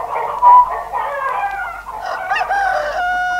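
Rhode Island hens cluck on a farm while a rooster crows nearby, the calls loud and close, a steady cackling run broken by a drawn-out crow.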